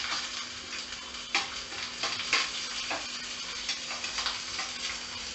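Ginger and green chili stirred in a hot pan for dahi vada: a continuous close sizzle with repeated light scrapes and taps of the spoon against the pan, no talking.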